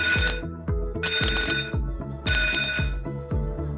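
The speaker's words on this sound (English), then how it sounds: "The first alarm will be an intermittent alarm sound with no announcement." An intermittent emergency alarm at a military symposium venue sounds in three loud, repeated electronic tone bursts, each with bright ringing harmonics over a pulsing lower beat, with no announcement or talk.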